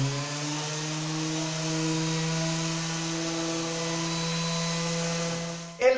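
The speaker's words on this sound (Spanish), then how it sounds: "El rendimiento de esta lijadora es excelente" A 300W Promaker PRO-LO300 variable speed orbital sander runs on MDF with a steady, close electric motor hum and buzzing drone, sustained evenly for about six seconds before a brief scrape and clatter at the end.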